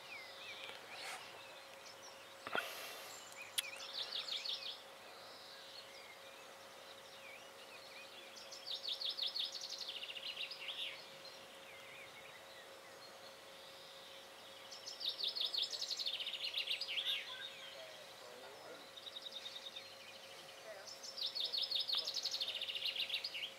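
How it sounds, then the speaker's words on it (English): Birdsong outdoors in the French countryside, several bursts of chirping and trilling phrases rising and falling over a steady faint background hum, fairly distant and moderately quiet. "I hope you're getting all the bird song that you can hear."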